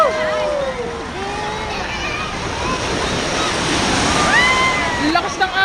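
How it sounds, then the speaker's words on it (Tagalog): Waves churning in a large water park wave pool, a continuous rushing slosh and splash under excited shouting and squeals from people in the water. "Ang lakas ng alon!"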